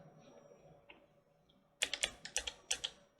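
Computer keyboard keys tapped one after another to step through animation keyframes, a quick burst of about eight crisp, close clicks following near silence, no talking.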